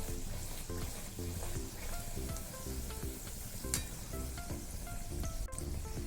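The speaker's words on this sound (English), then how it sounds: "Fry this puri till 2 to 3 minutes." Palak coriander puri fries in hot oil, a steady close sizzle and crackle throughout, with faint music playing underneath.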